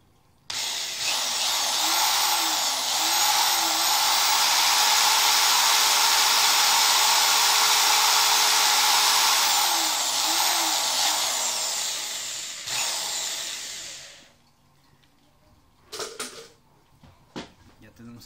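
A power drill bores a hole through a wooden lid for a homemade CO2 diffuser, a loud steady whine holding for about twelve seconds before winding down, followed by a few faint knocks.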